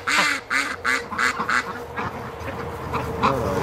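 A large farm duck quacks repeatedly in a steady, loud series of nasal calls close by, with a few overlapping honks from other fowl in a pen and no talking.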